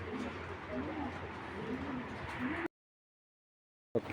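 Racer pigeons coo in low, murmuring calls over a busy background wash, then the sound cuts to silence before a brief return.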